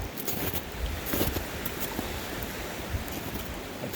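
A loud Vermont stream rushes in a steady, broadband wash of flowing water, close by and without pause. No one speaks.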